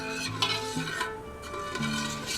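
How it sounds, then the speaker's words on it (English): A spoon stirs pindo palm jelly cooking in a pot on the stove, giving soft, steady scraping and swishing strokes with faint clinks against the pot, close and fairly quiet with no talk. "I'm gonna stir this for a little while so it gets to cooking."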